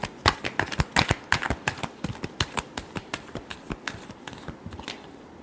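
Tarot cards being shuffled by hand give a rapid run of crisp, dry flicks and slaps, close and clear, starting busy and dense and then settling into a slower, evenly spaced patter, with no voices.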